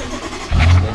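A car engine revving as the vehicle pulls away during an Uber ride, a brief mid-pitched surge rising out of a quieter cabin hum.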